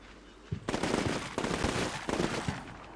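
Bursts of rapid automatic gunfire from the combat game Combat Mission Shock Force 2, with three loud sustained volleys in close succession and brief pauses between them.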